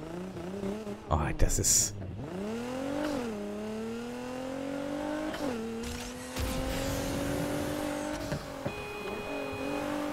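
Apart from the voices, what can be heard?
car engine driving in Need for Speed Heat video game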